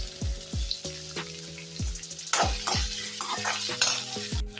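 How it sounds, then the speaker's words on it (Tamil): Onions sauté in hot oil with cinnamon, cloves and cardamom, a steady close sizzle broken by repeated stirring strokes, with clear tonal notes running alongside. "நல்லா வெங்காயம் நல்லா வதங்கிட்டோம்"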